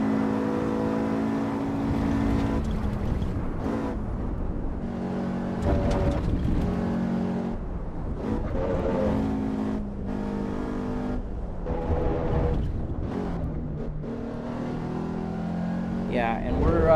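A race car engine in Assetto Corsa Evo on the Nürburgring Nordschleife revs up and drops repeatedly through gear changes, loud and close, with someone talking over it throughout.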